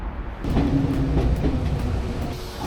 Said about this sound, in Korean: 제가 탈 열차가 왔습니다